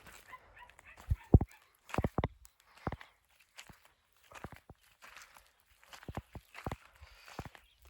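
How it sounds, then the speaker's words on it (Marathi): A dog yips and whimpers in short, scattered bursts, with soft footsteps and shuffling in between; no one speaks. "कुत्र कसं करते उन्हाचं वाव वाव वाव"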